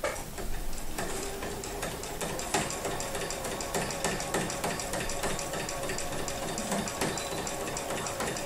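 A sewing machine runs steadily through free motion quilting along a seam line, its needle ticking in a fast, even rhythm with small variations in pace, close and moderately loud.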